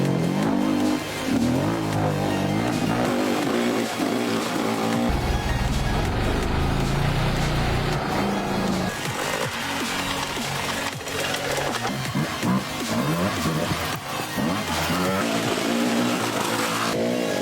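Off-road motorcycles racing hard along contour tracks at the Roof of Africa rally, a dense, continuous roar of engines revving and accelerating, loud and close throughout with no talk.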